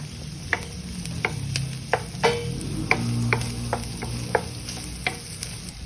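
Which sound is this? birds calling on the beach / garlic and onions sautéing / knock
garlic and onions sautéing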